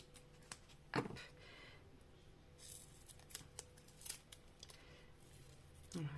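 Scissors cut paper for a handmade pop-up Christmas card in a few quiet, scattered snips and rustles, close and soft against a faint low hum.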